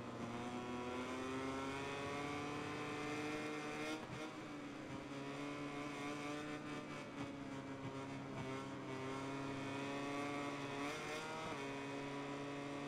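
An LCR Honda racing motorcycle in MotoGP 21 at full throttle. A steady high-revving engine whine holds for several seconds, with rising and falling pitch through gear changes and brief dips around shifts.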